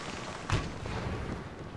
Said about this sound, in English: Satisfying cannon shots there.